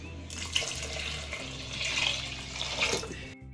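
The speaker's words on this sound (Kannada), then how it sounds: "ಇದಕ್ಕೊಂದು ನಾಲ್ಕು ಗ್ಲಾಸಷ್ಟು ನೀರು ಹಾಕ್ಕೊಂಡಿದ್ದೀನಿ" About four glasses of water pouring steadily into a cooking pot, a continuous splashing rush lasting a few seconds before stopping abruptly.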